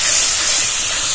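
Spice masala of chilli powder, turmeric and salt fries for a Bengali egg curry, giving a loud, steady, close hiss with no breaks.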